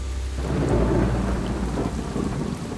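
Steady, dense monsoon rain pours down in the afternoon with a low rumble of thunder rolling underneath, a continuous heavy wash of sound.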